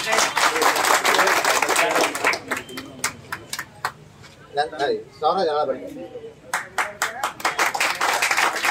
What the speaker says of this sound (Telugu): చప్పట్లు కొట్టండి అబ్బాయి.